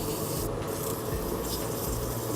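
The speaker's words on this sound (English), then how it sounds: "This is going to take a little bit of sanding." Sandpaper rubs steadily against a wood bevel spinning on a lathe at about 700 RPM, a continuous, fairly loud abrasive hiss over the lathe's low hum.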